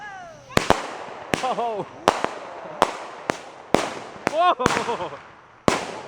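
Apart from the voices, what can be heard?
fireworks going off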